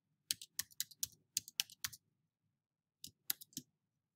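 Keys clack on a computer keyboard as a username and password are typed, with a quick run of about eight crisp taps, a pause, then three or four more, close and quiet.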